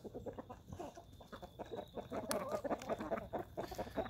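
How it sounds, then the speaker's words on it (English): A chicken on a farm clucks and squawks in agitation after an attempt to catch it, a rapid, uneven run of calls growing busier toward the end, fairly faint and close by. "I tried to catch the chicken, but it didn't work. That's why it was screaming."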